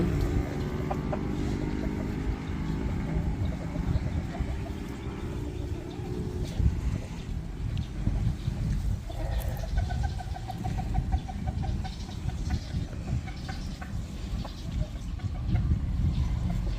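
Chickens cluck on and off across a steady low rumble of background noise, with no one speaking.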